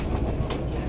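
A White Pass mountain railway train in Alaska rumbles steadily along the tracks high above a gulch, with a low continuous roll and faint rhythmic clatter close by.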